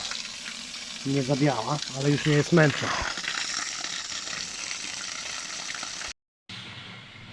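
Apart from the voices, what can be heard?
water being poured out from a leaking 180 L aquarium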